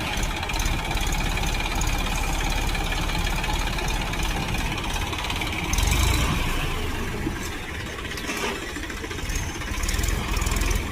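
A tractor loader's diesel engine runs steadily nearby in a farm field, a continuous loud rumble with brief revving and clanking now and then.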